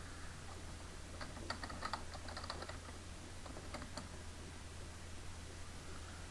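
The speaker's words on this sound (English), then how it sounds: "And in the search box, I'm going to type additional drivers." Quiet, fairly close clicking of a computer keyboard as a short phrase is typed into a search box, a quick cluster of keystrokes in the middle over faint background hiss.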